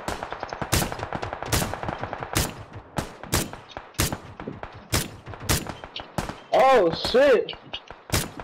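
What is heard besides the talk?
gunshots in the video game PlayerUnknown's Battlegrounds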